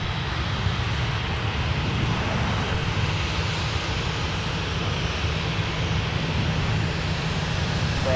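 Boeing 737 jet airliners for Delta and Sun Country taxiing at Minneapolis–Saint Paul airport, a steady broadband engine roar with a low hum, continuous and moderately distant, no talk.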